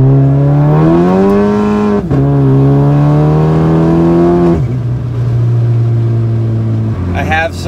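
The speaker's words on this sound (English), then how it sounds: "Accelerating, it really wants to pull to the right with torque steer, but that felt really strong." Volkswagen MK6 GLI accelerating hard from inside the cabin, a loud, steady engine drone climbing in pitch through two gear changes before settling lower at the end.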